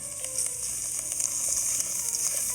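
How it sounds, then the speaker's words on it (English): Risotto rice sautés in a pan, a soft, steady sizzle with faint crackles that continues evenly throughout. "this is kind of a key step at this point, is to give the rice a little bit of a saute."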